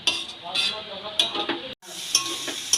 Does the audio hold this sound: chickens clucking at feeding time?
no